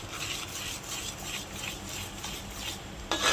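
Besan being stirred into hot sugar syrup in a pan for Mysore pak, a continuous scraping, rubbing stir with soft rhythmic strokes, close up and without talk.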